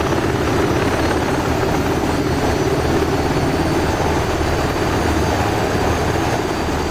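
A Seahawk helicopter in DCS World lifts off from a ship's deck, its rotor and turbine making a loud, steady, unbroken roar that fills the whole stretch.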